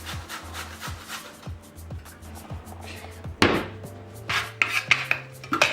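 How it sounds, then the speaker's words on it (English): A carrot rubbed against a grater in a home kitchen, giving a steady, rhythmic scraping with regular strokes, followed by a few clattering knocks of utensils and pans near the end. "We're just going to grate."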